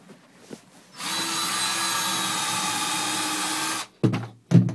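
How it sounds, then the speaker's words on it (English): A power drill bores into a hot tub during a repair, running as one steady, loud whine for about three seconds, with short bursts of handling noise before and after. "So it feels like you drill through the tub,"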